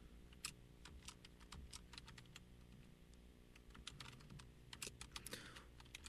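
Someone types code on a computer keyboard in quick, irregular bursts of light clicks, close but quiet, with a steady faint hum behind the keystrokes.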